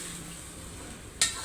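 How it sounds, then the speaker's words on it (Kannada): Chicken biryani gravy being stirred in a pan, a steady soft frying sizzle running throughout with one brief louder scrape of the spoon near the end. "ಗ್ರೇವಿ ಎಲ್ಲ ಆ್ಯಡ್ ಮಾಡಿ ಮಿಕ್ಸ್ ಮಾಡ್ತಾಯಿದ್ದೀನಿ."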